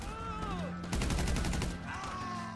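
Bursts of rapid gunfire in Grand Theft Auto Online, a quick rattling volley in the middle at moderate loudness, with game voices and sounds before and after.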